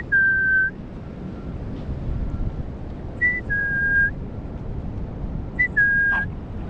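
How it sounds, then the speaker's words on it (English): Three short, shrill whistles from a person calling a dog on a beach, each a quick rising chirp followed by a longer held tone, over steady outdoor wind noise. "I'm doing the whistling"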